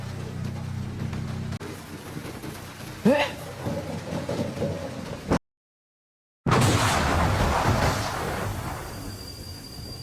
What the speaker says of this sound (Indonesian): tiba-tiba terjadi gempa dan petir menyambar markas mereka